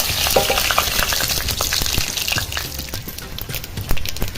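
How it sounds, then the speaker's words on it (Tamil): Mustard seeds, cumin and lentils fry in hot oil for lemon rice, a dense close sizzle with rapid crackling pops scattered throughout and no talk over it. "எண்ணெய் காஞ்சிச்சுங்க. கடுகு, ஜீரகம், உளுத்தம்பருப்பு,"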